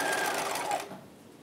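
Sewing machine stitching a fabric bodice for a 1950s halter dress, running in one steady close burst for under a second before stopping.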